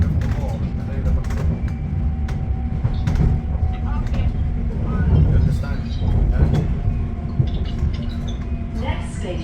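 An Elizabeth Line train toward Paddington, London, rumbles steadily along the rails, with clattering and rattling throughout and a faint voice in the background.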